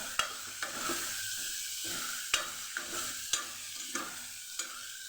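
Cluster beans (guar) sautéing in a pan, with a steady sizzle of frying underneath and sharp clicks of a spoon stirring against the pan every second or so, no voices.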